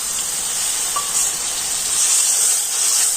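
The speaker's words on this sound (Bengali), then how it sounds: "সেই মশলার পেস্টটা আমি এখন দিয়ে দিচ্ছি বাটিটা ধুয়ে আমি একটু জল দিয়ে দিচ্ছি" Spice paste and a splash of water hitting a hot pan while cooking a pointed gourd and egg dish, a steady bright hiss and sizzle throughout, close and fairly loud.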